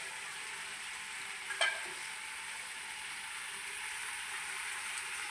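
Egg roast masala cooking in a pan, with a steady, even sizzle of simmering gravy all the way through and one brief clink of a utensil partway in. No one speaks.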